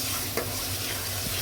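Onion frying in oil until light brown, a brief steady sizzle with a stirring tap, close up and without speech.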